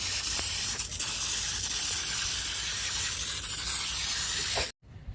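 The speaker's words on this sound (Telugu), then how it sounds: "అయినా స్ప్రే చేస్తున్నాను" A pump sprayer hisses a steady mealybug treatment over a maroon chrysanthemum plant, one continuous close spray lasting several seconds before cutting off abruptly.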